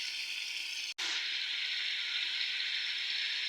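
Meat browning in a hot pan gives a steady, close hiss of frying that runs continuously, broken only by one very brief dropout near the start.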